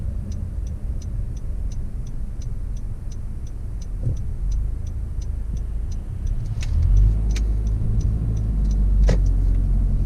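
A Honda Accord with a CVT accelerates on the road, its low engine and road rumble swelling noticeably in the second half, with a steady, regular ticking repeating throughout.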